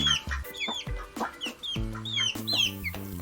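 A hen clucks up close in a series of short, choppy calls with brief pauses between them, loud and alone.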